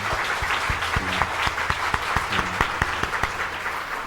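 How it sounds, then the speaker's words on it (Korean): Church congregation at an evening service claps in welcome for visiting church elders, a steady scattered applause with sharper individual claps standing out, fairly close and full, with a faint murmur of voices. "박수로 환영하겠습니다."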